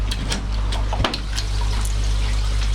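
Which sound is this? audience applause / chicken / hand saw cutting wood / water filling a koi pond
water filling a koi pond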